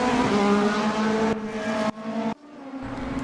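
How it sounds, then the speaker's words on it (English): Mercedes and BMW race cars in a racing video game sweep through the Corkscrew, engines roaring loud and steady with gear changes and abrupt drops in pitch, the sound cutting sharply between cars. "in the Mercedes and the BMW of Mark Minahan, as they head through the corkscrew"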